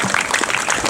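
A brief stretch of dense, steady applause from an audience at a town's 150th anniversary celebration, broad and unbroken with no voices standing out.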